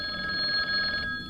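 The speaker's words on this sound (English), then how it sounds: "It was the hotel phone." A hotel telephone rings steadily for about a second, with a bright electronic trill that stays loud and close throughout and has no voices around it.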